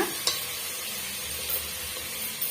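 Potato pieces stirred into a kurma in a pan, a continuous bubbling sizzle with soft scraping strokes and a couple of small clinks, close and steady with no talk.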